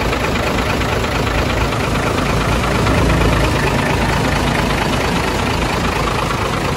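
A vehicle engine idles in a steady, continuous drone close by, with a broad low rumble and no talking over it.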